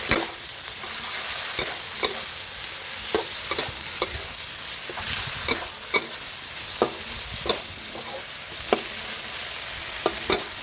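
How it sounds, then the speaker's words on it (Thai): Holy basil leaves and soft pork offal stir-fried in a wok give a steady sizzle, broken by sharp, regular clanks and scrapes of the spatula against the pan, close and alone without talk. "ผัดเข้ากันดีแล้วปิดท้ายด้วยใบกะเพราครับ"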